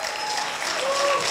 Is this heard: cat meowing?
no